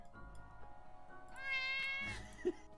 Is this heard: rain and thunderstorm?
no